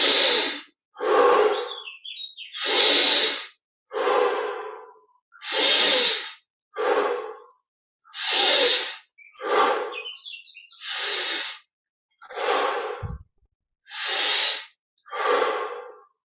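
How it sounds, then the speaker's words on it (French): Deep breaths during a guided meditation, in through the nose and out through the mouth: a slow series of long, loud, close inhales and exhales with airy rushes, faint bird chirps in the background. "Les 20 respirations profondes"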